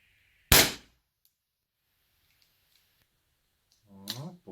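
One sharp, cracking shot from a suppressed Ruger .22 LR pistol rings out nearby, followed by quiet, then a voice begins speaking near the end.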